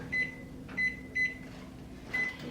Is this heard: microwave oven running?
yes